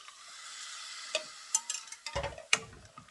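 A spoon scrapes and stirs through Korean beef rice porridge in a pot to break up lumps, with scattered soft knocks and scrapes over a faint background hiss.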